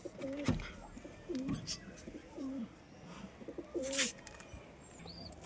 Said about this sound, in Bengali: তো চলো আজকে তোমাদের আমার কিছু পায়রা উড়িয়ে দেখাবো